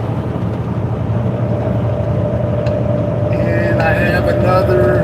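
Car cruising on Interstate 40 in California between Kingman, Arizona and Long Beach, with steady broadband road and engine rumble throughout and a faint tonal whine building near the end.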